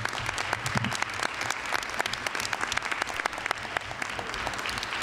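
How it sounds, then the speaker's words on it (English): An audience in a school setting applauds a band after its performance, a dense, steady patter of many hands clapping in a hall, loud and sustained throughout without speech. "Let's give them another round of applause."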